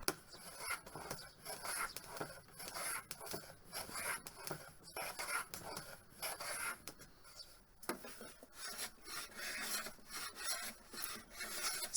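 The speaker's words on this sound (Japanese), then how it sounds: "接着剤が乾燥したらはみ出た部分をノコギリで切り取ります。" Hand saw trimming dried excess glue from a wooden dovetail box joint, a steady run of quiet rasping strokes in close, even rhythm with no talk.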